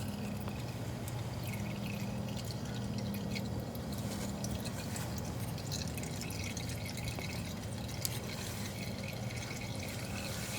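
Engine oil drains from a 2017 Kawasaki Z900 motorcycle in a continuous, fairly quiet liquid pour and trickle that stays steady for about ten seconds, with no talking.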